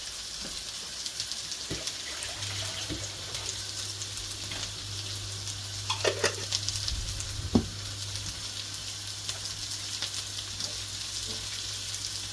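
A hash of canned and dried food fries in a pan, giving a steady close sizzle with a few light clicks and scrapes from stirring, and no talk.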